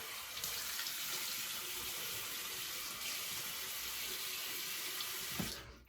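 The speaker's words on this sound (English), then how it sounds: "Cold water rinse to close the pores." Cold water runs from a tap in a steady, close hiss for a rinse, lasting nearly the whole stretch before cutting off at the end.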